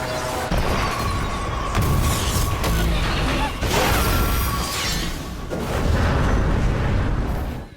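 An anime robotic arm turned railgun firing on an incoming hover ship, loud continuous roaring blasts and crashing booms with whooshing sweeps, dense and layered with no pauses.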